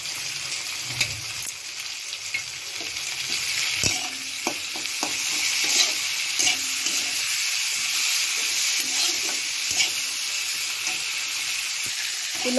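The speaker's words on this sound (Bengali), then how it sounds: "এবার ভাজা ভাজা করে নিই।" Onion, chili and tomato frying in a home kitchen pan, a steady loud sizzle with scattered clinks and scraping from stirring throughout.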